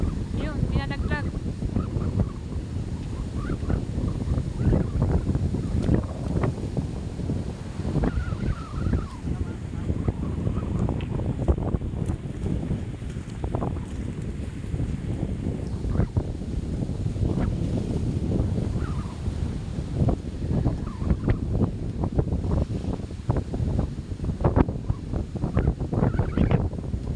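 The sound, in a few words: strong typhoon wind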